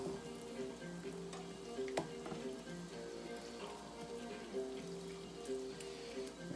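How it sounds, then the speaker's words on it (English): Shrimp for a tagine frying and being mixed in a pan: a quiet, continuous sizzle with light stirring clicks and a faint tonal hum in the background, with no talking. "We get the shrimp cooking. Just mix it a little bit like that."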